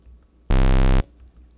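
Square-wave bass synth from Xfer Serum, pitched down, one buzzy half-second note that starts and stops abruptly, loud and alone against near silence.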